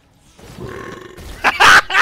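A loud burp erupts during a League of Legends game session. A low guttural build-up swells into several harsh, bursting belches, close to the microphone.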